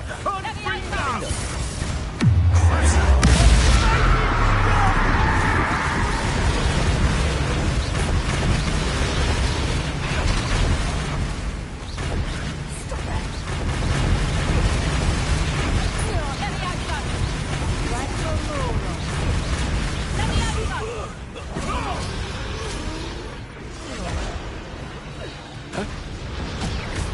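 Repeated Confringo fire-spell explosions in the video game Hogwarts Legacy, heavy booms and crackling bursts that come again and again over a dense bed of game noise and music, with occasional voices.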